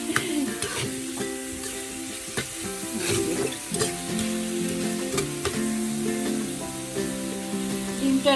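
Egg curry (dim bhuna) sizzling and frying in a pan while a spoon stirs it in repeated scraping strokes, close and steady, with no one talking.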